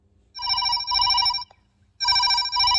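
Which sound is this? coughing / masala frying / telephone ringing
telephone ringing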